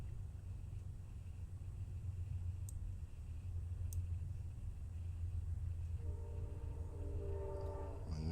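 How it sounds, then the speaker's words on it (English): A Metro-North train rolls by near the Hudson River on a Monday evening, a faint, low, continuous rumble that ends with a horn sounding over the last couple of seconds. "And you could hear the train."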